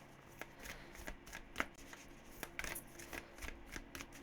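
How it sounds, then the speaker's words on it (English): A tarot deck is shuffled by hand, with repeated riffling rustles and soft slaps of cards at an uneven rhythm, close and quiet, with no voices. "This is such an awkward deck to shuffle."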